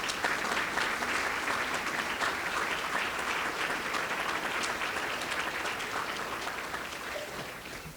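Audience applause for city staff at a State of the City address, steady dense clapping from a large crowd that holds strong throughout and tapers slightly toward the end.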